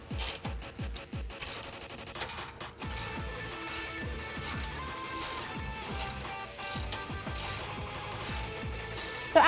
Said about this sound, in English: You can tighten these bolts down with a 16mm socket.